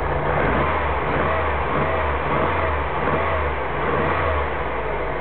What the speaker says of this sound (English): Here we have the engine running with 10 cents test meter attached.